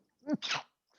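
A single human sneeze, a short voiced intake followed by a breathy burst, close and clear against a quiet background with a faint trailing noise afterward.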